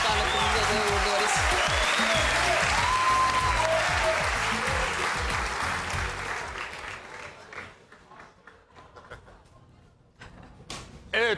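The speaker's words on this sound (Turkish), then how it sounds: "Özge'yi tebrik ediyoruz ve alkışlarla kendimize de uğurluyoruz" A studio audience on a televised dance competition show claps loudly and steadily, then the applause thins out and fades toward the end, leaving a few scattered claps and knocks.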